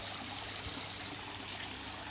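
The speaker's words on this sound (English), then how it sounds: "So I will start this waterfall extension." Water trickles and splashes from a newly started garden waterfall extension, a soft steady flowing wash at low volume with a faint hum beneath and no speech.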